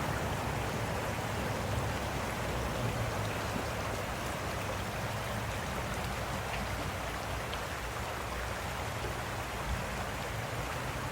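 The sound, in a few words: creek water flowing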